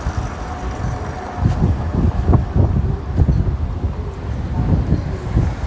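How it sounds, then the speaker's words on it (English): Outdoor wind buffeting microphones near the San Francisco piers, a loud rumbling, gusty roar with low thumping bursts that swell and persist throughout, no speech. "The wind, oh, I just took the mics off too."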